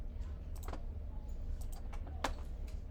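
Scattered light keystrokes on a computer keyboard while entering a function to graph, a handful of soft clicks in short irregular bursts, quiet over low background noise.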